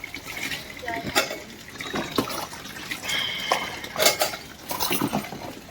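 Dishes and metal utensils being scrubbed and rinsed under running water in a home kitchen, with scattered clinks and clatters, splashes of water, and a voice talking over the washing.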